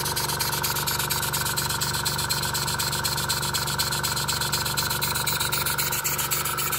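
An S10 engine on a trial run, with a straight-running flywheel, runs steadily with a continuous even mechanical drone and fine regular pulsing, loud and close, with no talk over it.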